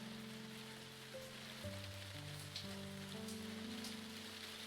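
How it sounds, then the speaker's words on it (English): Rain falls in the Eldritch Idol game, a soft, even hiss of raindrops running continuously beneath quiet melodic background music. "I don't want to head back in all this rain."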